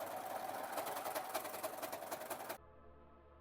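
Overlocker serging fabric edges in white thread, a fast, even buzzing whir for about two and a half seconds, then stopping abruptly to a low residual hum.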